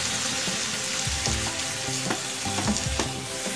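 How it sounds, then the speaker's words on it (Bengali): Potatoes frying with spices in a pan sizzle loudly as water is poured in, with bursts of crackling and stirring scrapes over a steady hiss. "এবার আমি প্রয়োজন মতন জল দিয়ে দেবো।"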